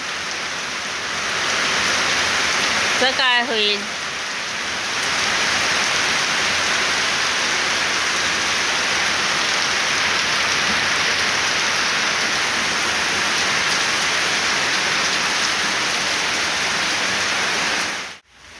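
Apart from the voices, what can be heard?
heavy rain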